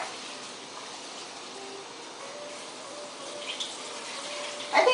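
Tap water runs steadily while rice is rinsed in a kitchen, a soft continuous flow at moderate distance with a few faint clinks and a brief splash near the end.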